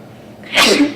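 A single sharp sneeze bursts out close to the mic after a brief quiet stretch, loud and breathy with a quick tail, in an indoor report setting.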